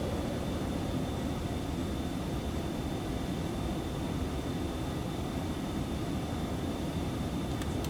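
Inside the cockpit of a Phenom 300 jet climbing at climb thrust in X-Plane 11, the engines give a steady, even roar. A thin constant whine sits above it, and the noise stays unchanged throughout.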